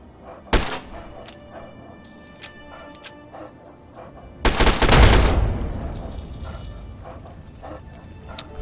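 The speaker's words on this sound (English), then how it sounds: "Fireworks." A sharp crack followed seconds later by a loud, rumbling burst of fireworks in the video game Fallout 3 that fades slowly, with a dog barking faintly in the background.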